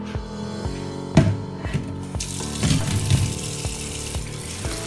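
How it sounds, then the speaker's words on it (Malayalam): Cooked spaghetti is strained and rinsed under cold water, with a steady pour and splashing and a few clattering knocks in the sink, and no talking. "പാസ്ത സ്ട്രെയിൻ ചെയ്യുമ്പോൾ നമ്മൾ തണുത്ത വെള്ളത്തിൽ അത് വാഷിയെടുക്കാം"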